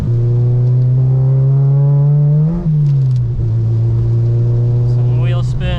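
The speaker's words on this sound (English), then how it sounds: "Some wheel spin." A 400hp Acura RSX spins its wheels on a wet road in stormy weather. The engine hums loud and steady with a brief dip and rise in pitch, and a voice speaks over it.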